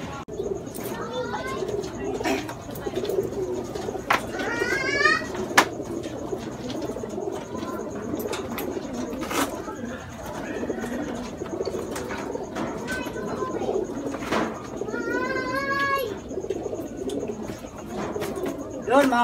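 Racing pigeons cooing at a loft during the run-up to a fun race, several soft repeated coos close by over a steady murmur of background noise, with a few chirps and a brief flutter of wings.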